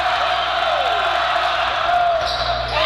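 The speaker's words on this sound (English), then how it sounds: "with how loud this crowd's been" Loud crowd noise fills a high school varsity basketball semifinal gym, a dense continuous roar of voices with a few whoops rising near the end, no clear break or lull.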